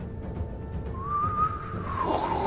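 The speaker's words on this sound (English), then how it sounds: "that whistle sound of artillery coming in" An incoming artillery shell whistles overhead in a war-game scenario, a rising then sustained tone that slides downward near the end over a low rumbling background, single and moderately loud.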